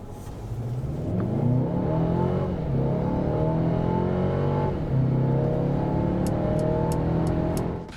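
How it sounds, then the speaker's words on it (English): A 2020 Mercedes A-Class sedan engine revs up hard under full throttle, pitch climbing through gear changes with a steady, smooth roar heard from inside. "I recommend full throttle for that fast pass or merge, and here, the engine never sounds like it's overworked"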